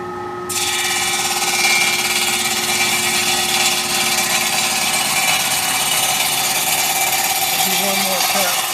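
A DAKE OMP Euromatic 370 PPL automatic cold saw with a 14.5-inch blade runs steadily while cutting metal stock, a loud continuous motor whine and grinding hum that kicks in after a brief start and holds throughout.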